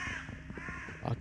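A crow caws in a video game, a harsh, nearby croak with a couple of rasping bursts, loud and alone over a faint ambient background.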